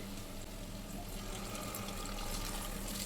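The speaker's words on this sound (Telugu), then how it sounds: "కొంచెం వాటర్ని కూడా యాడ్ చేసుకుంటాను." Water is poured into a pan of spicy, tangy tamarind curry made with jackfruit seeds, giving a steady, soft splashing hiss throughout with no talking.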